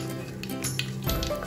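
Mustard seeds crackle and pop in hot coconut oil in a clay pot, a close, bright sizzle with sharp little spits over a low hum of frying and no talking.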